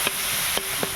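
Onions frying in a pan, a soft steady sizzle with three faint clicks of a utensil stirring, quiet and close.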